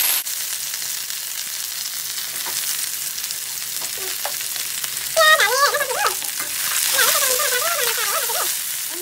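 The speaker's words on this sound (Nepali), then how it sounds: "अब हाल्छु म प्याज।" Sliced onion sizzling in hot oil with bay leaf, cumin and ajwain for a Nepali local chicken soup, a steady broad fry hiss broken by scattered spatters and a few scraping stirs, louder near the end.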